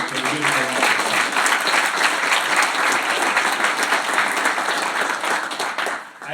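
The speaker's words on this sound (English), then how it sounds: "Can we give him a round of applause?" An audience applauds a retiring four-term Ector County Sheriff at a candidate forum, dense steady clapping filling the room for several seconds before tapering off at the end.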